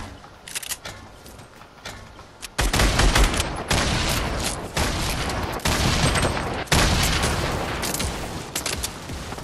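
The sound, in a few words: grenade launcher fire in the video game Fortnite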